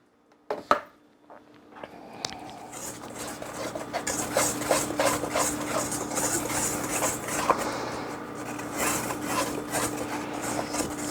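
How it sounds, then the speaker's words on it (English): Dry protein bar ingredients being whisked in a bowl, a close, continuous brisk scraping and rasping with a fast rhythm, starting after a couple of sharp knocks. "I'll whisk that in now"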